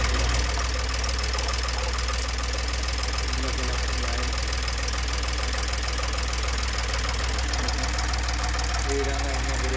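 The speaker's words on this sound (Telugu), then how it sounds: "ఈ విధంగా ఇంజన్ తిరుగుతుంది" A freshly fitted Ashok Leyland Dost engine runs steadily at idle with a constant mechanical drone and knocking rattle, close and loud throughout.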